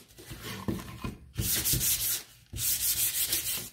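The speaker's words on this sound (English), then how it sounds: "this is done, and it's going to be sanded again." Sanding a wooden sign by hand, with several rough rubbing strokes that come in bursts and are split by two short pauses, close and fairly loud.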